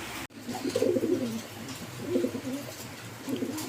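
A male pigeon calls over and over for its lost mate: three close, throaty bursts of cooing spaced about a second apart, near and clear, with a brief knock at the start.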